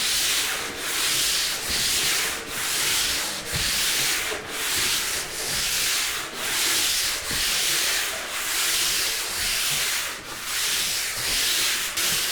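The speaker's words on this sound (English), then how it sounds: "this wall has to be sanded properly" A painted interior wall with a rough, gritty finish is sanded in steady back-and-forth strokes, roughly a dozen rhythmic scraping passes close by with no talking.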